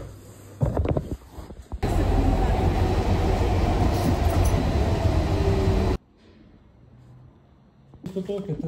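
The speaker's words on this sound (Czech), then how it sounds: "Už jsme v prvním vlaku." Steady roar of rumbling train interior noise during a ride, loud and continuous for several seconds, with brief quieter stretches before and after and a voice talking at the start and end.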